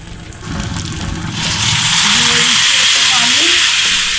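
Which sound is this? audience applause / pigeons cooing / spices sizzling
spices sizzling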